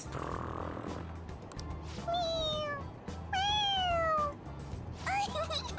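A cat in the Persona 5 Royal video game gives three distinct meows, each rising then falling in pitch, with a soft murmur of game background sound beneath.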